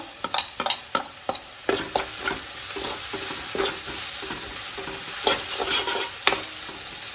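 Maggi noodle ingredients fry in a hot pan with steady sizzling and a series of sharp scraping stir strokes and clicks of a utensil, moderately close, with no talking.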